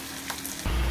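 Green chillies and curry leaves sautéing in hot oil for crab rasam, a short, close burst of steady sizzling that swells louder near the end.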